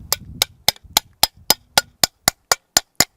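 A hammer drives a climbing piton into rock with twelve sharp metallic strikes in a steady rhythm, each blow ringing brighter and higher as the piton seats, loud and close with nothing else underneath.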